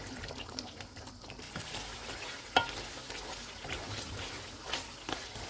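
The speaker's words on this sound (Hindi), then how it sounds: "अब हम चूल्हे को फुल कर देते हैं और इसको घी अलग होने तक भून लेंगे" Mutton sizzles in ghee in a karahi over a high flame while a utensil stirs it, a soft steady frying hiss broken by occasional scraping knocks, no talking.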